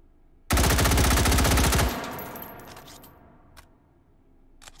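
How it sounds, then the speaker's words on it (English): An M16 fires a rapid full-auto burst of about a second and a half in the VR game Hot Dogs, Horseshoes & Hand Grenades, loud and close, followed by a ringing tail and a few faint clicks of handling. "Go full auto."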